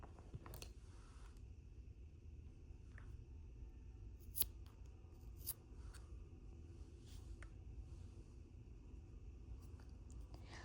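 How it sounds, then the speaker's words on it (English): Scissors snip through crochet yarn while finishing a small flower keychain: a few quiet, crisp close cuts spread over a soft, steady room hiss. "And now you can just cut the yarn."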